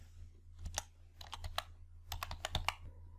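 Keys clatter on a computer keyboard while data is entered into an Excel spreadsheet, short bursts of close, crisp clicks separated by brief pauses, quiet and with nothing else heard.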